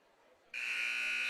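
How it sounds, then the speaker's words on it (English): After a quiet moment, a loud, harsh electronic buzzer ending a period of a high school boys' wrestling match blares on suddenly and holds steady. "As the buzzer's going to sound here in the first period of play"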